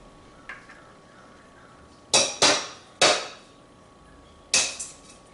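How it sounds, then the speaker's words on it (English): Eggs cracked against a hard edge into a mixing bowl while making orange French toast, giving four sharp, close knocks: two quick ones together, a third just after, and a last one after a pause. "I'll crack my eggs into my mixing bowl"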